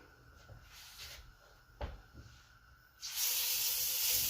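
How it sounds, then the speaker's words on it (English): Smash burger hitting a hot skillet, first a clunk of handling, then a loud, steady sizzle that bursts up and continues close by. "Hear that sizzle."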